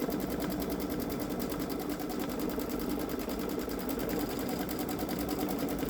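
Rapid, even mechanical whirring and stitch chatter from a Babylock Solaris sewing machine running an edge-to-edge quilting pattern, continuous and close.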